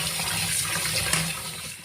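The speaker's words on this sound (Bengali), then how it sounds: "এখন আমি মটন ধুয়ে নিব সবগুলা" Mutton pieces are rinsed in running water, a short, close splashing gush that stays steady and then eases off.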